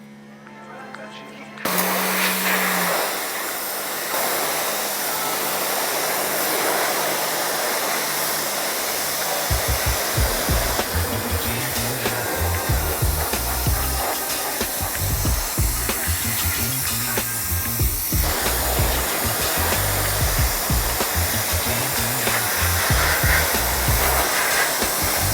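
A pressure washer sprays water onto vinyl siding with a loud, continuous hissing rush, a low motor tone stopping early and uneven pulsing chugs setting in partway, while a person talks over it.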